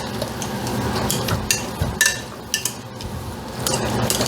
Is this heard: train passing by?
no